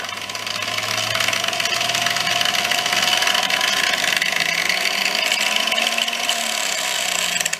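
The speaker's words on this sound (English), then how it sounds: "I doubt it'll ever go this slow on a grinder." Angle grinder running at very low variable speed in a home shop, a continuous loud whirring motor hum with a steady whine that drifts slightly in pitch over several seconds, close by and without talk.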